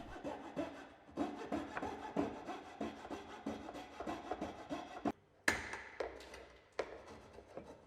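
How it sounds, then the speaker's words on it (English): A coping saw cuts a wooden skirting board in quick rhythmic rasping strokes, close and fairly quiet, with a brief pause and a sharper knock partway through. "Take care at this stage to ensure that the coping saw blade is cutting square to the face of the skirting"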